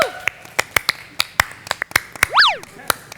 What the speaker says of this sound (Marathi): स्वागत करूया, टाळ्यांच्या गजरात स्वागत करूया